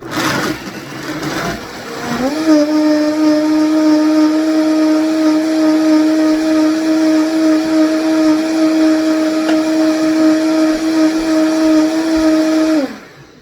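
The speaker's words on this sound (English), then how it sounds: "Most blenders take a lot longer than this dang Vitamix. This thing's almost too strong." A powerful Vitamix blender whirs up to a loud, steady high-pitched roar for about ten seconds, then winds down and stops.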